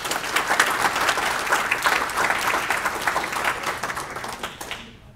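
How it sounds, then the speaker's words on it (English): An audience at a Hall of Fame induction ceremony applauds steadily for about five seconds, a dense wash of many hands clapping that tapers off into quiet at the end. "Can we give them a round of applause?"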